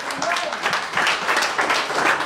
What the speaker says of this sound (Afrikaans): Julle klap hande asof jou kind derde gekom het in 100 meter, hoor.